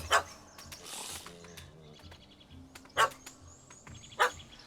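A puppy barking at a cat in The Witcher 3 video game gives three sharp, loud barks spaced out over a few seconds, against a low background murmur.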